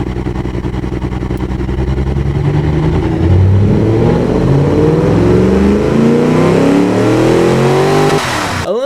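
Simulated engine of a 1970s Jensen Interceptor fitted with racing tubular headers, in a car-building game, revving up steadily from a low growl to a loud, rising roar before cutting off abruptly near the end.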